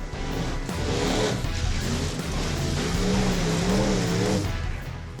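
A monster truck launching toward a jump at a stunt show, its engine roaring loud and close, with pitch climbing and wavering as it accelerates over about five seconds.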